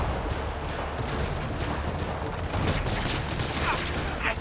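Rockets firing and exploding in Marvel's Spider-Man Remastered game, a dense continuous barrage of blasts and rumbling that grows sharper and louder toward the end.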